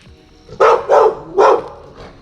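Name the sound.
dogs barking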